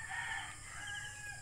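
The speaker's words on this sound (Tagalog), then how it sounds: "Tapos maraming manok din sa baba, ilalim oh." A rooster crows over clucking chickens kept beneath a house on a farm on Alabat Island, Quezon, the call faint and distant against steady background noise.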